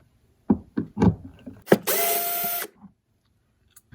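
Screws being backed out of a Samsung freezer panel: a few short clicks and knocks, then a close, loud whir of a powered driver spinning for under a second, followed by a faint tap, with no talking.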